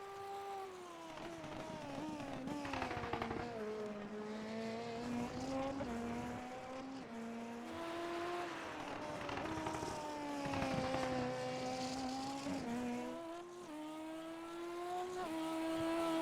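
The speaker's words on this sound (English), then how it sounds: "A lot of cars already coming out on track here." Open-wheel race cars of the ABN Hyper Formula series circling the track during qualifying at Elkhart Lake, engines whining up and down through gear changes and passing at a steady distance, with one car following another continuously.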